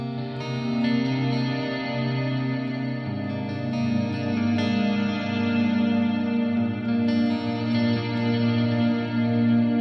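Clean electric guitar picking a steady arpeggio, notes ringing into a wash of reverb and chorus, loud and continuous with no voices.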